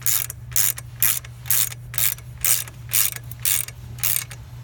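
Ratchet wrench torquing down the clamp of an Akrapovic exhaust on a Honda CB300R motorcycle, about ten evenly spaced bursts of rapid clicking close by over a low steady hum.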